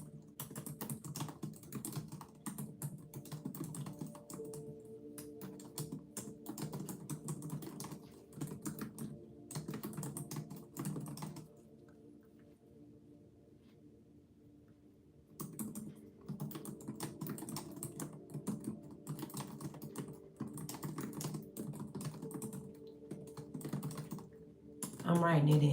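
Steady typing on a computer keyboard, with bursts of close clicking keys that pause for a few seconds midway, then resume, and no voice over them.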